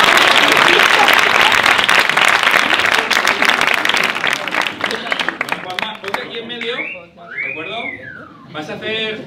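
Loud audience applause with scattered whistles and cheers at a live science improv comedy show, fading after about six seconds as a host's voice and whistling come through.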